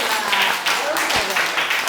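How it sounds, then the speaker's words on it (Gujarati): Audience clapping loudly in a hall, a dense, fast patter of many hands that stays strong for the whole stretch, with voices mixed in underneath. "તો એક વાર જોરથી તાળી પાડી દો"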